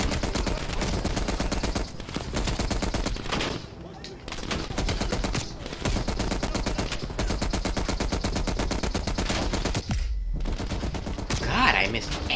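Sustained rapid automatic gunfire in a Call of Duty Black Ops Cold War campaign mission, dense bursts nearly continuous for twelve seconds with a couple of brief gaps, loud and close, with faint voices underneath.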